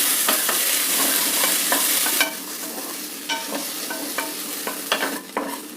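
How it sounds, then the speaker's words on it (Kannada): Garlic frying in two spoons of oil crackles loudly at first, then settles into a softer sizzle punctuated by repeated spoon taps and scrapes against the pan, with no voices. "ಎರಡು ಸ್ಪೂನ್ ಎಣ್ಣೆ ಹಾಕ್ತಾಯಿದ್ದೀನಿ ಚೆನ್ನಾಗಿ ಹುರ್ಕೊಳ್ಬೇಕಿದ್ದೀನಿ"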